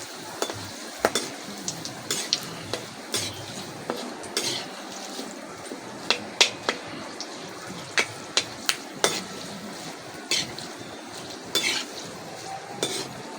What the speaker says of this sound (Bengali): এবার আমি কারি পাতাগুলোকে ভেজে নেব।